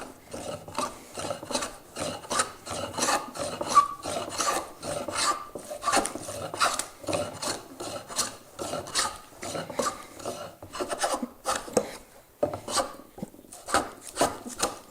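An antique tenon hand plane, a century old and unsharpened, shaves ash wood in a steady run of rasping strokes, each pass a close, dry scraping swipe, repeated rhythmically with short pauses between.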